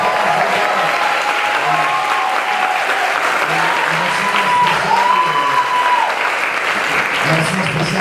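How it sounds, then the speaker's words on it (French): Audience at a cabaret show applauds steadily for about eight seconds, a dense wash of clapping with some voices and murmurs underneath. "Applaudissements."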